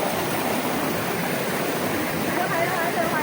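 Balagbag Falls roars as a continuous, broad rush of falling water, steady and fairly loud, heard from near the entrance with no talk over it.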